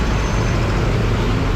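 Garbage truck working in street traffic, a steady loud rumble of engines and road noise filling the whole moment without a break.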